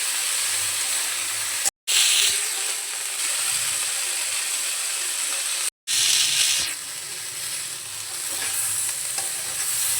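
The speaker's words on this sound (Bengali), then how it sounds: "এরপর দিয়ে দেবো 1 চা চামচ হলুদ, দিয়ে ভালো করে এটাকে লাল করে ভেজে নেব" Onion, slit green chilli and turmeric fry in hot oil, a loud, close sizzle with stirring scrapes, broken by two brief silent cuts.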